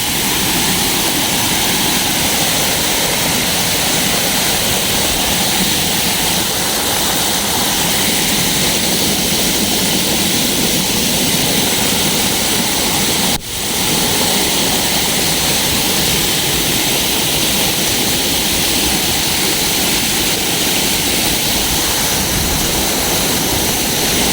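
Fast-flowing Neelum River water rushes in a loud, steady broadband roar beside a slippery trekking path on the Chitta Katha Lake trail, with one sharp brief knock partway through and no voices.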